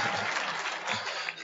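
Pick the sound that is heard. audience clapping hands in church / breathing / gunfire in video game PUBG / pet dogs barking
audience clapping hands in church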